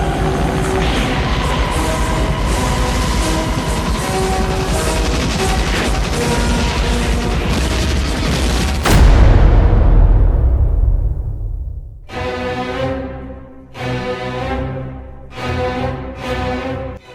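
A film scene of a village bombing set to Ride of the Valkyries, with a dense, loud wash of helicopter rotor roar and gunfire, then a heavy boom, followed by several loud, ringing orchestral blasts.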